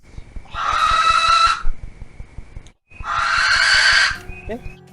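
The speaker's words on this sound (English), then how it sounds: "owls tend to just start screaming randomly. Yeah, and at least from the ones I've heard, barn owls are particularly horrifying." A barn owl screams in two long, harsh, raspy bursts, each about a second and a half, separated by a short pause, loud and close, with a faint low rhythmic background throughout.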